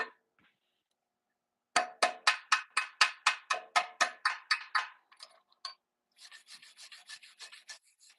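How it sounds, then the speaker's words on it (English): Sharp rhythmic scraping strokes, about a dozen evenly spaced rasps knocking slag off a fresh weld on a rusty bolt, close and fairly loud, followed after a pause by a quicker run of lighter scrapes. "Trying to get this slag out,"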